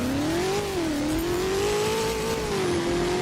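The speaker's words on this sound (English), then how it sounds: "This is one of the best sounding cars in the game too, and it's so underrated." SSC Toro Striker sports car in the Driving Empire racing game revs hard and steadily, its engine note rising and falling in pitch, loud and close throughout with no talking.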